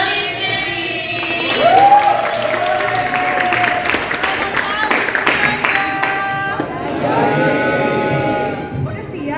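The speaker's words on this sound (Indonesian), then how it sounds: "mari gue minta tepuk tangan yang meriah untuk narasumber kita" An audience at SMA Al Izhar bursts into applause for a guest speaker, a sustained wash of clapping with some cheering and whoops that rises, swells near the middle, then tapers as a voice speaks over it.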